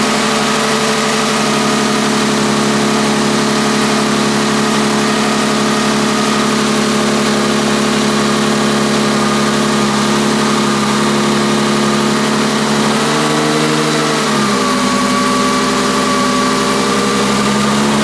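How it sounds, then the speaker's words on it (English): A freshly built car engine idles steadily and loudly for the whole stretch, a constant droning hum with a slight pitch dip near the end. "The engine is now running."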